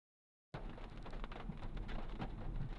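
Rain falling outdoors during an evening street queue, a steady dense hiss of drops on surfaces that starts abruptly after a brief silence and carries on evenly and fairly faint, with no talking.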